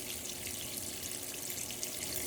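Water streaming from a faucet in a farmhouse being rehabbed, a soft steady hiss and trickle that stays even and fairly faint for a couple of seconds with no talking.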